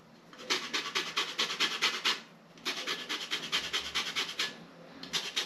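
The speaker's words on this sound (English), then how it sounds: "so I'm now going to zest the orange." An orange, a small satsuma type, is zested on a hand grater in a home kitchen, giving close rhythmic rasping strokes in two quick bursts with a short pause between them.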